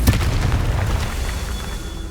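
Confringo fire spell explosion in Hogwarts Legacy, a single heavy boom at the start that rumbles and fades out over about two seconds.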